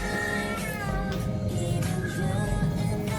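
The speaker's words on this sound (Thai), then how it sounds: "มีลูกแมวด้วยนี่ว่า" Kittens at Phu Khao Thong, the Golden Mount in Bangkok, meow repeatedly, with several high, wavering cries overlapping close by over faint background noise.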